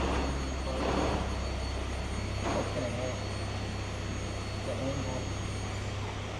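An INEOS Grenadier rolls down a garage ramp with a steady, low engine drone throughout, and faint voices are heard underneath.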